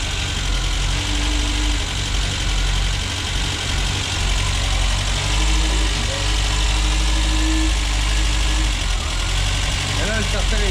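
A car engine idles steadily while warming up, a continuous low hum with slight knocking vibration, with brief talk over it.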